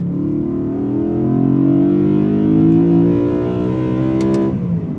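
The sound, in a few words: BMW E92 M3 V8 engine revving high while driving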